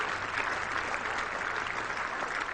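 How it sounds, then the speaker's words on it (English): Warm applause from a large cricket crowd at the Oval during an England versus Sri Lanka Test match, steady dense clapping filling the ground throughout, moderately distant and without speech. "warm applause from another very good crowd in here at the Oval"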